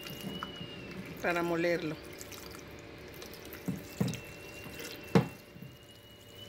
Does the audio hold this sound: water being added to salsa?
yes